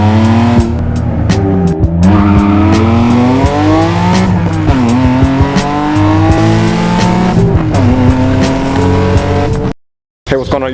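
A straight-piped 1999 BMW M Roadster with a manual gearbox runs loud and close, its engine note rising and falling through revs as it drives, with voices talking over it throughout and a brief cut near the end.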